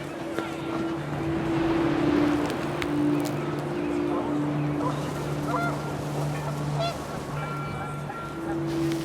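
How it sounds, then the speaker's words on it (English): Panicked geese in the game What Remains of Edith Finch honk in a loose, overlapping flurry against gusting wind and a steady low drone, moderately loud and continuous, with speech running over part of it. "The wind picked up, and panicked geese appeared and quickly went."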